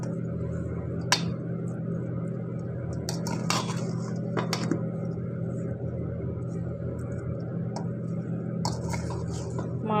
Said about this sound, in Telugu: కారము, ఉప్పు, మెంతి పొడి, ఆవపిండి అన్నీ ముక్కలకి పట్టేలా కలుపుకోవాలండి.